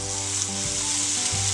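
Boondi batter for laddu drops through a perforated ladle into hot oil and fries with a steady, loud, close sizzle. Short bursts and crackles swell as fresh batter hits the oil, with no voices.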